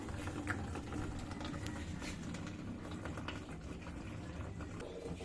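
Water pouring into the plastic base of a basketball hoop, a faint, steady trickling and pattering that runs on without a break, with no talk over it.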